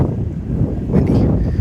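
Wind blowing across an open, relatively flat outdoor plot, a steady broadband rush with a gust that swells partway through, buffeting the microphone.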